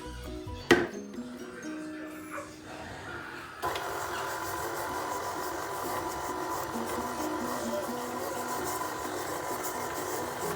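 Sugars are mixed in a bowl for chocolate chip cookie dough: a few clinks come first, then a steady soft scraping and rubbing runs on without pause, close and fairly quiet, with no talking.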